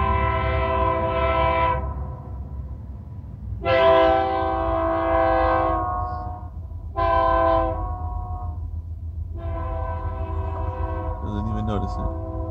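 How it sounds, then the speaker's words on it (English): A loud train horn sounds in four long blasts with short gaps, over a steady low rumble of the passing train. "Can you hear this train?"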